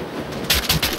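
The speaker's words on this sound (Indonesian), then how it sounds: "Dor dor dor dor dor dor dor dor. Dengeran enggak?" A quick automatic burst in GTA, four or five loud rapid gunshots fired in a tight rhythm close by, following a brief rumble of game ambience.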